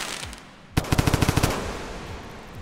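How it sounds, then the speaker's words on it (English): A firework bursts in the video game Rain World with a sudden loud crack, then a rapid string of about eight sharp popping reports over half a second, and quieter crackle tails off afterward. "Spooking them off with a firework works"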